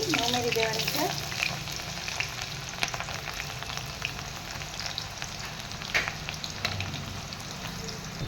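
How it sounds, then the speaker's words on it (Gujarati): Two finely chopped onions hit hot oil in a pan and fry with a loud, continuous close sizzle, broken by occasional stirring clicks and scrapes; a brief voice is heard at the very start. "એની અંદર મેં અહીંયા 2 ઝીણી સમારેલી ડુંગળી લીધી હતી ને ઉમેરી દેવાની છે."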